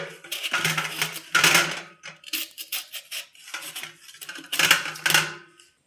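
A knife cutting through the middle of a watermelon, close and fairly loud, with crisp cracking and scraping strokes in irregular bursts separated by short pauses.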